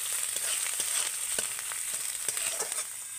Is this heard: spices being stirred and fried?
yes